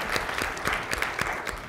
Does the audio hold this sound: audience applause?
yes